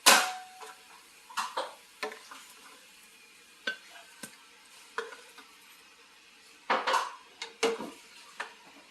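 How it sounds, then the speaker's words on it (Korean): Clinks and scrapes of utensils against dishes as homemade Korean sweet rice pancakes (hotteok) are put onto a plate, a series of sharp close taps and clatters with short pauses between them, no talking. "접시에 내볼게요"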